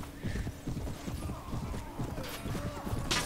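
Many horses gallop in a video game battle from the Perisno mod, a dense rapid clatter of hooves with an occasional whinny, moderately distant and steady throughout.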